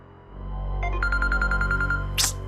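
A telephone rings in a repeating electronic trill of about a dozen quick pulses, loud and close over a low steady room hum, in an indoor domestic scene.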